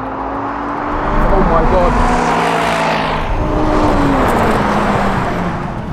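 McLaren 540C and Mercedes McLaren SLR in a drag race, loud engines accelerating hard with rising whine and roar, a person exclaiming over it.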